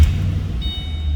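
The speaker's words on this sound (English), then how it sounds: "Let's fire it up so you can hear it run." A 2008 Ford Mustang Bullitt V8 idles steadily at close range, a deep, even engine rumble running alone for the whole moment with no talk over it.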